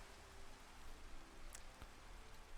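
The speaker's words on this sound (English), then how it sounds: "Oh, hello, Rain." Rain falling in the video game Minecraft, a faint, even hiss of steady rainfall with a couple of brief clicks, no voices.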